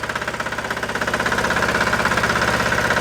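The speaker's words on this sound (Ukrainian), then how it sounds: "М'якенько працює двигун." A Weima diesel walk-behind tractor engine runs close by with a steady, rapid chugging pulse. It grows louder and a bit busier after about a second as the revs rise, with no talk over it.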